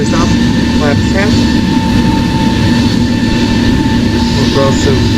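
A Singapore Airlines Airbus A350 lands in the flight game Project Flight, with a loud, constant engine and airframe roar and steady tonal hums, while voices come and go under it.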